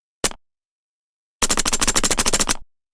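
A single sharp gunshot, a pause, then a rapid close burst of about a dozen muffled shots from a suppressed Makarov pistol with mechanical clatter.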